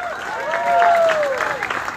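Applause from a crowd at a Republican political rally in Greenwich, Connecticut, a steady wash of clapping that swells slightly in the middle, with a voice speaking over it.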